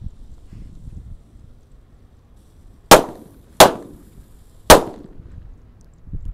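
Three sunflower fireworks lit at once burst one after another in sharp, loud cracks about a second apart, each a sudden close bang that fades quickly against a quiet outdoor background.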